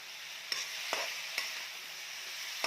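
Fish and eggplant curry is stirred in a pan, a constant faint sizzle marked by a few sharp scrapes of the spoon spaced out at intervals.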